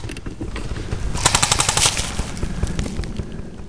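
Loud, close gunfire comes as rapid repeated shots in a dense burst that peaks midway, then continues as quieter scattered cracks.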